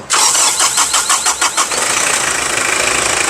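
A 2008 pickup truck engine cranks with a quick series of rhythmic turns, then catches and settles into a steady running roar, close and loud.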